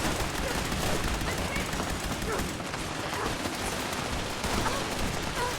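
Dense, nonstop gunfire and blasts fill the soundscape as an explosive weapon fires in the video game Fallout 76. The volume stays loud and steady throughout.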